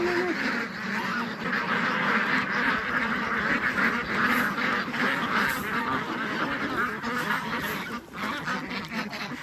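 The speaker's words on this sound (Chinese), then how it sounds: "鸭子啊，鹅" A flock of ducks and geese on a rural Chinese poultry farm quacks and honks without pause, a dense, loud chorus of many birds close by with no talking.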